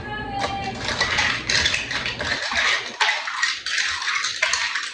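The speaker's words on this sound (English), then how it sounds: "And we stir it with a little spoon." A little spoon stirring a partly frozen holiday side dish, with bright repeated clinks and scraping against a container that run continuously and close by, and a voice is faintly present.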